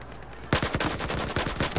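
A sustained burst of rapid automatic AK-12 rifle fire in Battlefield 4 begins abruptly after a half-second lull and stays loud and close, its shots coming in a fast, even rhythm.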